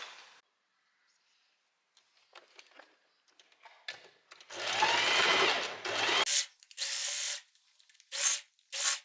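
A sewing machine stitches bedsheet fabric in short bursts: one long whirring run in the middle, then several brief stop-start runs, close and loud, separated by quiet pauses with faint handling noise.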